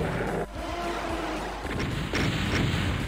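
A shotgun blasts in the Doom courtyard level, aimed at a Spectre: a few heavy booming shots with rumbling echoes under a continuous game soundscape, loud and close, with no talking.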